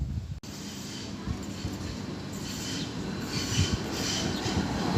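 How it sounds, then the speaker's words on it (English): A tram rolls along rails in South London with a steady low rumble and faint wheel squeal, fairly close and continuous, with no talk over it. "Trams are still running."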